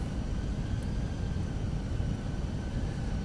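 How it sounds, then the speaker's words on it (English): A continuous, even roar of a jet airliner, heard from the cockpit of a Fenix A320 in Microsoft Flight Simulator 2020, steady and unbroken as a broadband rush. "and that plane has departed off"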